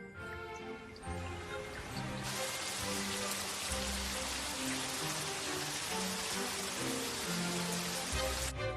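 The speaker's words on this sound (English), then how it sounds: "The rain didn't let up" Steady rain pours down in a dense, continuous hiss, with music playing underneath throughout.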